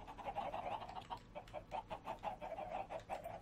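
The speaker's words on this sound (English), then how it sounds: "Can someone come and help me with these chickens?" Minecraft chickens in the Better Than Wolves mod cluck in a steady run of short, quick pulses, several birds overlapping at close range with no talk.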